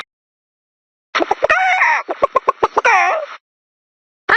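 Chickens in the Fortnite video game cluck and squawk in a busy run of short, rapid calls lasting about two seconds, followed by a brief burst near the end.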